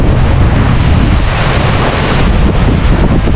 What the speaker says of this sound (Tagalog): matindi na yung bugso ng hangin